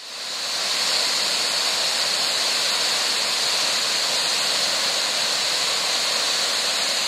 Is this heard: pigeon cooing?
no